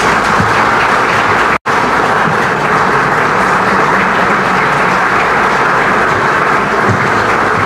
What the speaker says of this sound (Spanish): Con este aplauso agradecemos las palabras del excelentísimo señor Luis Abinader